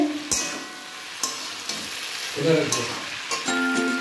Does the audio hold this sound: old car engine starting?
no